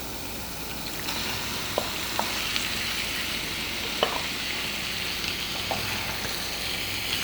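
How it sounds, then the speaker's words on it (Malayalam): Marinated chicken sizzles steadily in a pan with softened onions for Chicken Mughlai, with a few sharp scrapes of a spoon as it is stirred over high heat; no one speaks. "ഇനി നമുക്ക് ചിക്കൻ മാരിനേറ്റ് ചെയ്ത് വെച്ചത് ചേർത്ത് കൊടുക്കാം."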